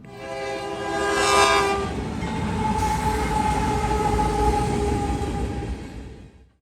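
Eastbound Norfolk Southern freight led by a BNSF Warbonnet locomotive sounds its horn in long blasts while rumbling past near milepost 163, loud and close, then fading as it moves away.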